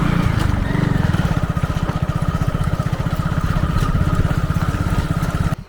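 A motorcycle engine putters loudly and rhythmically at close range, its low chugging steady as it rides over a rocky forest path, cutting off abruptly at the end.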